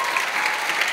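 An audience at a high school choral holiday concert in the Bonita Center for the Arts claps steadily, a dense, even wash of applause with no pauses.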